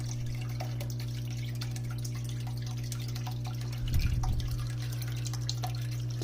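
Water trickling and dripping through the cooling system of a 60 W OMTech laser cutter, small drips over a steady electrical hum, with a brief louder gurgle of flowing water midway.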